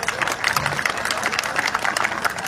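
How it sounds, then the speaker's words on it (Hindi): Audience applause fills a school annual day celebration at a Kendriya Vidyalaya camp, with dense, steady clapping from a crowd and faint cheering mixed in across the whole stretch. "ऑडियंस से रिक्वेस्ट है कि तालियों से हमारे बच्चों का उत्साहवर्धन करें"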